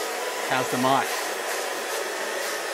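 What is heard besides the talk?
hairdryer blow-drying hair in a barber shop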